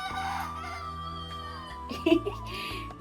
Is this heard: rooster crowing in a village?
yes